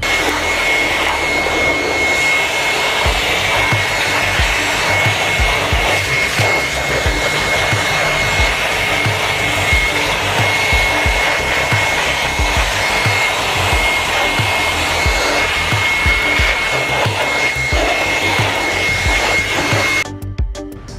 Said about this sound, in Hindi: अगर आपके पास ब्लोअर है तो ब्लोअर से कर लीजिए।